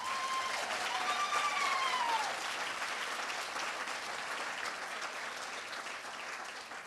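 Audience applause at a School of Dentistry declaration ceremony honouring the graduates: dense, steady clapping from a large crowd that carries evenly throughout and tapers slightly toward the end, with a brief thin whistle early on.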